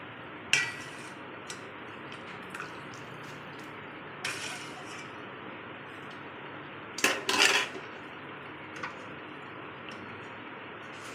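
Drained Maggi noodles being lifted into a vessel in a home kitchen, with a few sharp metallic clinks and clatters of utensils against the pot, scattered over a quiet, hissy background.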